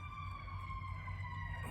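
Emergency vehicle sirens wail past a house at moderate distance, a sustained rising and falling tone over a low engine rumble, heard without speech.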